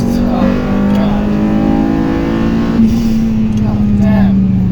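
Acura RSX S engine revs hard under acceleration into VTEC, a steady loud drone that climbs in pitch, heard from inside the car with someone talking over it.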